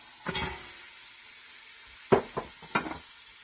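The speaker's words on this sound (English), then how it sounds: "I'm going to add my carrots, my leeks," Carrots and leeks for ham and potato soup hitting a hot pan, giving a quiet sizzle with a few sharp scraping knocks of a utensil against the pan, no talking.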